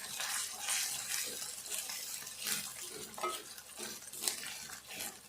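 Onion, green chillies and ginger garlic paste frying for a tomato and moong dal curry, a soft sizzle with rhythmic scraping swishes of stirring in the pan, close and fairly quiet, no talking.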